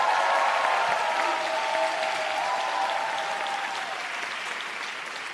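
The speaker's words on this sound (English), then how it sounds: "Donc petits applaudissements pour nos assistants." Audience applause at a College of Europe closing ceremony in Bruges: dense, steady clapping from a large crowd that holds strong for about five seconds and then eases slightly, with no talking over it.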